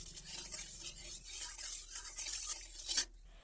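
Small fish fry in a hot kadai on a gas stove, giving a soft, steady sizzle with light stirring and scraping and a brief metallic clink near the end.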